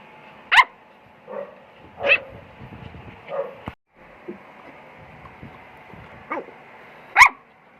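A pet dog indoors gives a few sharp, separate barks and yips spaced out over several seconds, with soft whimpering and quiet gaps between them and no voices over it.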